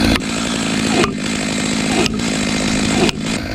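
Chainsaw cutting into a boxelder tree, a loud close engine roar holding steady with three brief dips as the load changes, no talk over it.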